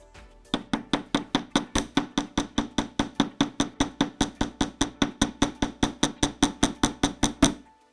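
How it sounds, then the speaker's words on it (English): Steady, evenly spaced metal hammer taps flattening wire ends on a bench block, about thirty sharp strikes in quick rhythm, close and clear with no talking. "you're going to start hammering the ends of these to give it a little paddle look"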